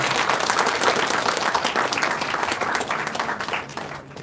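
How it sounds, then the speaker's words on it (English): An audience at an alumni entrepreneurs summit gives sustained, dense applause in a hall, loud and steady at first, then fading toward the end. "I request everyone to give a big round of applause for the"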